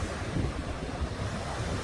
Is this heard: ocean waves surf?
yes